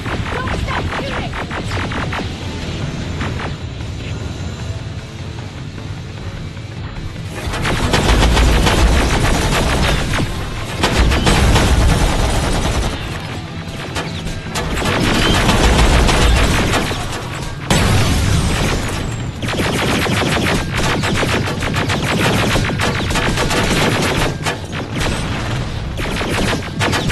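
Gunfire in the video game Terminator: Resistance, a dense loud stream of rifle bursts and booming impacts that surges and fades in waves over nearly half a minute, with a game score and battle noise behind it.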